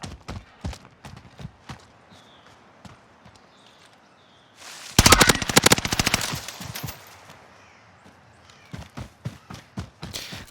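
Gunfire from the Automaton loadout in Call of Duty: Warzone: a loud, sustained automatic burst lasting about two seconds in the middle, with quieter scattered footsteps and clicks before and after.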